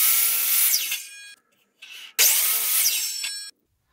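A closet rod piece is sawn to length in two loud bursts of cutting close up, the second starting abruptly after a short pause, with no talking.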